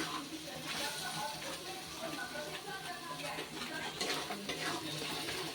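Yogurt stirred into spices in a pan for Bengali chicken kosha, a faint continuous sizzle with soft scraping and mixing noises throughout, fairly quiet and close, no talking.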